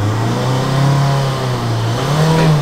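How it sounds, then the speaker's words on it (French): Car engine revving steadily as the accelerator is held down, a loud continuous mid-pitched drone that rises slightly in pitch toward the end, close by with no talk. "Je m'étais pas rendu compte que je marchais sur l'accélérateur."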